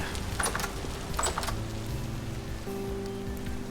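Rain in the Vintage Story game patters steadily and softly, a continuous close drizzle of small drops with faint scattered taps, no speech.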